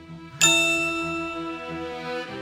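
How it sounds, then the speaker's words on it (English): A single bright phone-notification ding rings out clearly in a radio advert, its tone ringing on and slowly fading over a couple of seconds. "That sound isn't your phone dinging."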